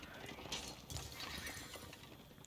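Horse hooves clip-clopping amid a busy Age of Empires 4 battle, with occasional whinnies over a dense, steady din of game sound effects.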